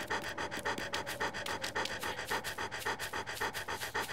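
A dog pants rapidly and steadily in the survival horror game Ju-on: The Grudge, a loud, close breathing rhythm of quick regular puffs that continues throughout with no talk over it.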